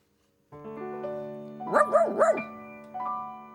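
A dog from a children's farm story about a farmer and his sheep in a field gives three quick, bright yips in a row, close and fairly loud over a soft steady musical background, followed by a fainter fourth bark.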